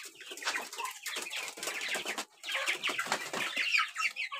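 Aseel chicks of pure Madrasi line clucking and peeping together in a busy, continuous chorus, with a brief flutter of wings, close and fairly loud with no talking.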